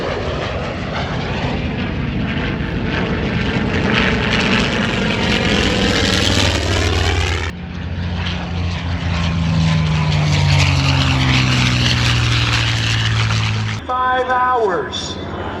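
Engines of a WWII-era warplane roar loud and close at an air show in Reading, Pennsylvania, holding steady with a droning hum that shifts in pitch as the aircraft passes. Faint voices are mixed in.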